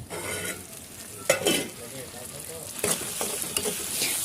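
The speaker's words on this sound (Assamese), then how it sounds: "অলপ লৰাই দিছো" Pasta with turmeric, chilli and other spice powders sizzles in a pan as a spoon stirs it, with a few scraping strokes over a steady near frying crackle.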